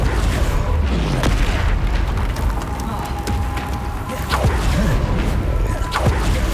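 Confringo fire spell blasts in Hogwarts Legacy gameplay, a steady run of booming impacts and crackling hits over dense battle noise, with a couple of sharp whooshing casts rising through the mix.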